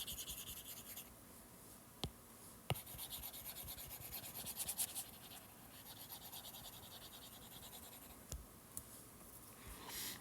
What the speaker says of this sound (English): So let me go ahead and erase here.